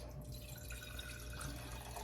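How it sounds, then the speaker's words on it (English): Water trickles and drips into a jar holding sweet potato pieces to grow slips, a soft, steady, faint pouring with no talking. "now I'm gonna put water in it"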